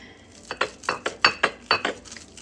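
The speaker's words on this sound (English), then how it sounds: "Now, let's give this a cut." A knife saws through a crispy toasted patty melt sandwich, giving about eight sharp, crunchy strokes in quick succession, close and crisp.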